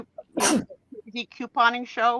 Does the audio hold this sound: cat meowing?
no